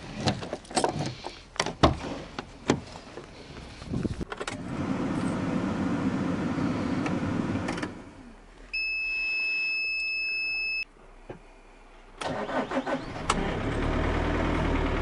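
A GAZelle Next van's engine cranks and turns over with rough, clattering bursts, then a steady warning beep sounds briefly before the engine catches again and settles into a loud idle.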